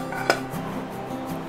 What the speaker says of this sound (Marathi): मी आता ही डाळ आहे ती भांड्यामध्ये काढून घेते.